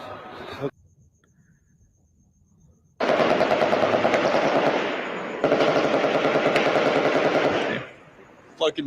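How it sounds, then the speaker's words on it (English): Sustained bursts of rapid automatic machine-gun fire during the Las Vegas shooting, loud and distant-echoing, two long volleys separated by a brief break after a quiet stretch, with muffled voices around. "Fucking machine gun, dude."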